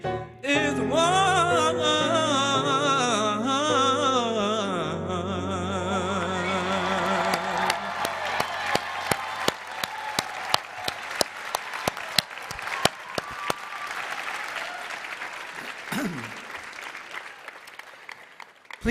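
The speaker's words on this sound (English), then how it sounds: "join me in a round of applause for our Z-Band and vocal performance students" Commencement audience applause at a university arts ceremony, following a sung performance that fades out; sustained clapping from a large crowd builds and continues with sharp individual claps standing out near the end.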